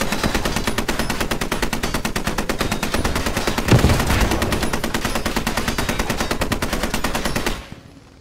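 A Browning .50 caliber machine gun in a video game fires one long, loud, sustained burst of rapid, evenly spaced shots, each crack close and sharp, running nearly eight seconds before stopping abruptly.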